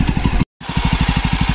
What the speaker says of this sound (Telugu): ఈరోజు బైక్ రైడింగ్ ఎలా ఉందంటే జావా క్లాసిక్స్ 300 cc.